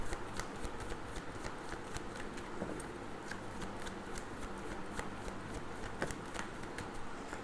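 Tarot cards being shuffled and drawn, a rapid continuous riffle of soft flicks and snaps close by, quiet and steady throughout with no talk.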